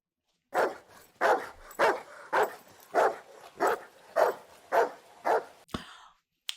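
A dog barks in the film Signs, nine loud, evenly spaced barks close by, followed by a short whine, with no talking.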